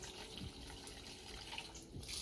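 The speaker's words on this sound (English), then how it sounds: "Water pressure is high, I know." Water gushes from a kitchen tap at high pressure, a steady splashing rush into a sink, fairly close and without speech.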